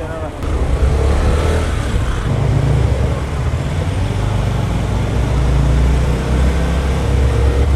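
Honda Activa 100 scooter engine fitted with a headers exhaust, droning steadily while riding, loud and close with constant wind and road noise throughout.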